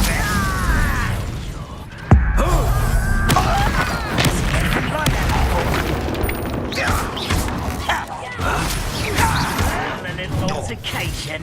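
Confringo and Incendio fire spells explode repeatedly during a Hogwarts Legacy duel, with a sharp blast, then crackling bursts and thuds amid ongoing combat noise, mixed with shouting voices.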